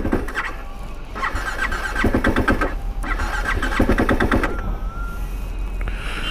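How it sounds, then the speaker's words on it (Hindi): A cold motorcycle on a mountain ride near Pithoragarh cranks repeatedly in bursts of rapid starter chatter, engine failing to catch, with short pauses between attempts and a squeal near the end. "बाइक ही नहीं स्टार्ट हो रही यार।"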